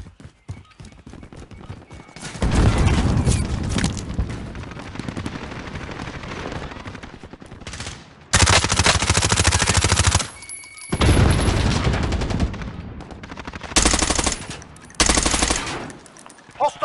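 A gun fires in a video game warm-up round, with long rapid automatic bursts and shorter volleys broken by brief pauses, loud and dense.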